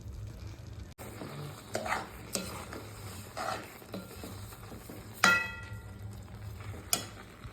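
Beetroot and milk roasting in a pan and being stirred, with soft scraping strokes over a low sizzle and a few sharp metallic clinks of the spoon against the pan.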